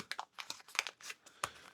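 Scissors snip and crinkle through a plastic catfish bait package in a run of short, quiet, close crunching cuts.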